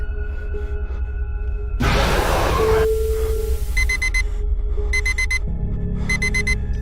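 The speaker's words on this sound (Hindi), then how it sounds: "अलार्म की आवाज सुन" An electronic alarm clock beeps in repeated rapid bursts over a background hum, with a brief rush of noise and a tone in between.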